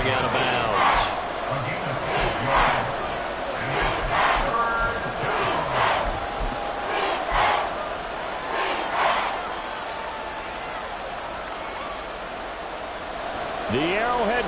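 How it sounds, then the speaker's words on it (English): The Arrowhead Stadium crowd roars at a Kansas City Chiefs–Tampa Bay football game, a broad, continuous roar that swells and fades with a broadcaster's voice heard over it. "The Arrowhead crowd in full roar"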